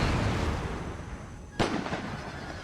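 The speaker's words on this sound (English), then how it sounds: "We have the howitzers firing explosive shells, because we just researched that." Video-game howitzers firing explosive shells in a historical battle, a steady roar of distant rumbling fire with one sharp close blast near the middle.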